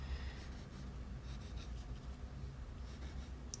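Pencil strokes scratch across paper as spiky hair is drawn for a cartoon character, a soft continuous rubbing with a few brighter bursts, close and quiet with no voices.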